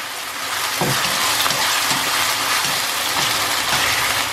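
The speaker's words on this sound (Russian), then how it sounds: "Тем временем мясо обжаривается." Steady sizzling and crackling of lamb frying in a pan, with a few soft clinks of a utensil, continuous and close.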